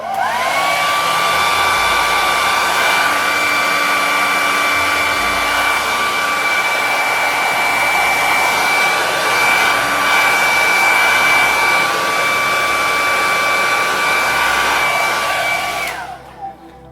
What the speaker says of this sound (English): you can use the old hairdryer